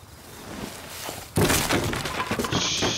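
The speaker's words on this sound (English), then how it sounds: "Shit, the ladder just broke." A wooden ladder breaks in the video game Rust: a sharp cracking thud lands abruptly, followed by a burst of splintering, clattering debris, close and loud.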